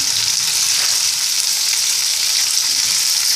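Onions sizzle steadily in hot oil in a pan for puli kuzhambu, a loud, constant frying hiss with no talk.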